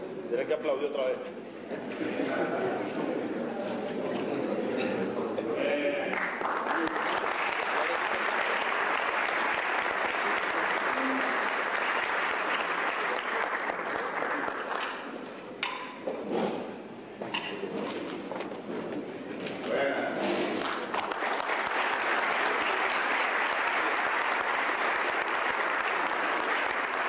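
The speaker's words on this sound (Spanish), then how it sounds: "Tienes que aplaudir otra vez." A large crowd applauds at a Colombian state event during a Venezuelan president's visit, a dense, sustained roar of clapping that swells and dips, with a voice speaking over it in places.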